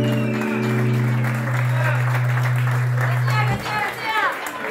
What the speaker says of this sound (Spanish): Fuerte el aplauso para la bailarina Che.